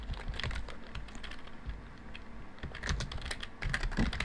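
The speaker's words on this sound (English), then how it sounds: "I'm going to type here to help" Fingers type on a computer keyboard while text is entered into a WordPress website builder. Rapid, irregular key clicks sound close and fairly loud, in bursts with brief pauses.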